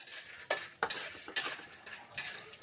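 Peanuts roasted in hot oil over a low gas flame while being stirred; a spoon scrapes and clinks against the pan in several distinct strokes over a faint sizzle, fairly quiet and with no talk.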